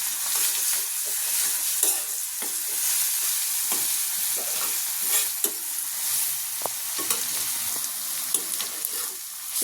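Crushed garlic and onion fry in hot oil with a steady, bright sizzle, while a spoon scrapes and stirs the pan in frequent short strokes, close and fairly loud throughout.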